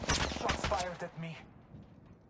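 Gunfire from the mobile battle-royale game Apex Legends Mobile, a burst of several quick shots over the first second or so, then fading into a lower game rumble, with a game voice line mixed in.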